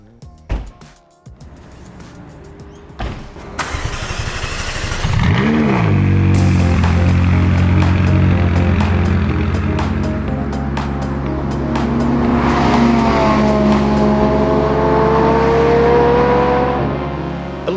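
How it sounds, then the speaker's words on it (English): A 2018 McLaren 570GT with its twin-turbo V8 pulls away on an open road, the engine rising loudly through the revs into a steady, close, sustained roar with tire and wind noise. "Let's just simply get this car on the road and see what she'll do"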